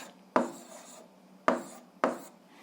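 Chalk or pen writing an algebra expression on a board: three separate sharp strokes, each starting with a tap and trailing into a short scratchy rub, fairly close and moderately loud.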